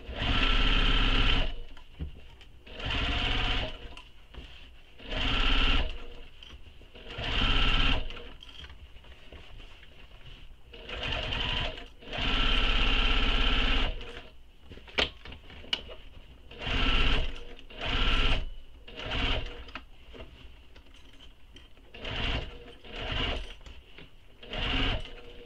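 Sewing machine stitching the side and bottom seam of a tote bag onto its gusset, running in a series of close, steady whirring bursts separated by short pauses, with no talking.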